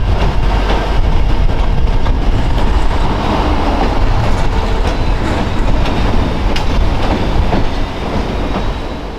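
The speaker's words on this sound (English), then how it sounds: "We're starting at number 10 with CN Local L539 arriving at Lance," CN Local L539, a freight train, arrives at Lance, Michigan, with a steady, loud rumble of rolling wheels and rail noise that fills the whole stretch and eases slightly near the end.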